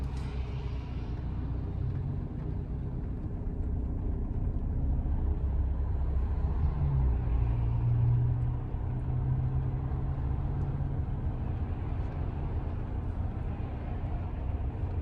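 A car reverses slowly during a driving lesson, its engine giving a steady, close low rumble that rises slightly midway, with no speech heard.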